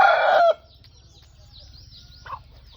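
A loud, close cluck from a diseased rooster opens the sequence, then a quiet pause with low background hum, and a second, fainter cluck follows near the end.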